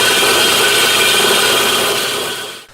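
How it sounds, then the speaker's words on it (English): A bench grinder grinds a primary bevel on a metal blade held at a set angle and moved back and forth, a loud, steady broadband hiss that runs unbroken and fades out at the end. "we're gonna do that just by holding it here at a set angle and going back and forth on the grinder"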